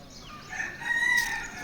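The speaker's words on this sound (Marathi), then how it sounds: "कोंबडा आरवला बघा." A rooster crows once at moderate distance in a village setting, a single drawn-out call rising and holding before fading.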